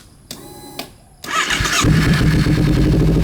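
A 2013 Kawasaki Z250 motorcycle with an aftermarket exhaust starts up after a few clicks and low cranking sounds, then settles into a loud, steady, close-up idle.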